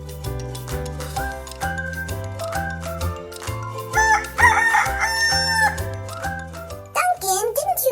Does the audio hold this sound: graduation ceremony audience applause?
no